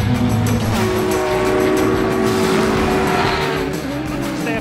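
Porsche race car of Dynamic Motorsport, number 54, at the 24 Hours of Spa-Francorchamps, a loud sustained engine roar with a steady high pitched tone throughout, no talk.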